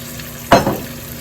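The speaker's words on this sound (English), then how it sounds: "And then we're also going to throw in a little bit of sherry." Sherry splashed into a hot pan of escargot, a sudden loud burst of sizzling that flares and then fades within half a second, against a quiet background.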